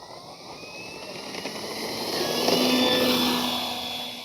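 A Flightline F4U Corsair 1600mm RC warbird takes off, its electric motor whine rising and swelling in pitch as it accelerates down the runway and climbs, growing louder toward the end with no talk.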